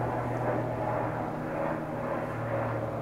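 Military aircraft flying overhead near an army base, a steady low engine drone that holds at an even, moderate level throughout without fading.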